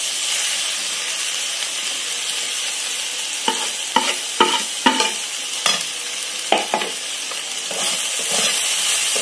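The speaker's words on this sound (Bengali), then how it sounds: "হালকা তাতে এভাবে করে নাড়তে হবে।" Semolina stirred and fried in ghee in a pan for pineapple kesari halwa: a steady, close sizzling hiss runs throughout, broken by a series of sharp spoon scrapes and knocks against the pan.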